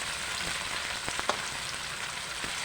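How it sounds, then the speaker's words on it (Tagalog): Tofu frying in a pan gives a steady, dense sizzle with a few small pops and spatters, close and continuous throughout, with no talking. "Prito natin dyan."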